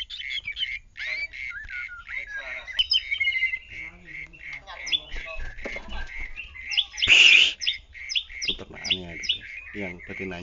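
A Bahorok white-rumped shama (murai batu) from a breeding pair chirps and trills in short bursts, with one loud, bright call near the end, while a person talks close by.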